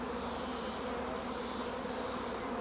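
A large swarm of honeybees buzzes continuously at an apiary, a dense, even drone with no pauses.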